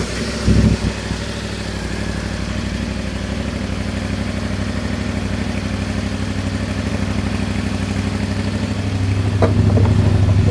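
A CFMOTO Ibex 450 motorcycle engine fires up after a brief cranking burst and settles into a steady, close, loud idle, swelling slightly near the end.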